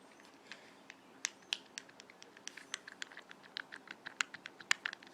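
A fidget cube's small buttons clicking, dozens of crisp, quick clicks in an irregular run, close and fairly quiet, with no talk.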